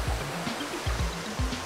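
River water rushing steadily in Sedona, a continuous close broadband wash with rhythmic low surges like small waves lapping, no voices.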